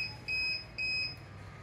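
Arduino anti-sleep alarm buzzer from a driver drowsiness detection system gives two clear, steady electronic beeps in a regular on-off rhythm over a faint background hum.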